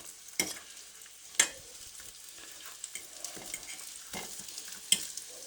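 Bread fries softly in a pan with a quiet sizzle, punctuated by a few sharp scrapes and clinks of a utensil stirring.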